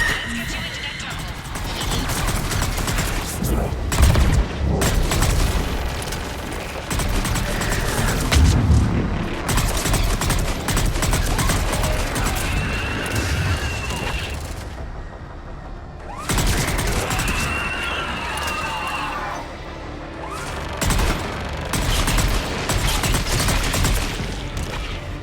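Missile strikes and gunfire in the Mass Effect 3 video game, a dense barrage of booms, crashes and rapid shots layered with music and game voices, with brief quieter gaps between bursts.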